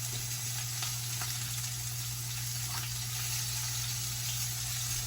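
Fish frying in a pan, a steady soft sizzle with faint crackles and pops, continuous and fairly quiet, with a low hum underneath and no talking.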